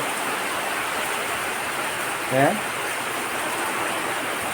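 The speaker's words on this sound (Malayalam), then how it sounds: "എന്താ മഴ." Steady, heavy rain hisses throughout, with a brief faint call rising once partway through.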